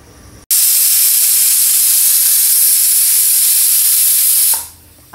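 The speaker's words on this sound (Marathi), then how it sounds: "आपल्या कुकरची 5वी शिट्टी झाली आहे" A pressure cooker whistles while cooking mutton biryani on a gas stove, releasing a loud, continuous hiss of steam for about four seconds before tapering off, with no talk.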